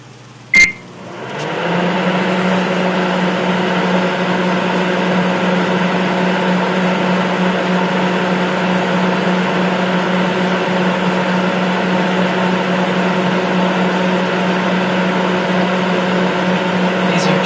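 A microwave oven hums steadily with chopped onions and hash browns inside, starting with a click and then giving a loud, even drone that carries on throughout.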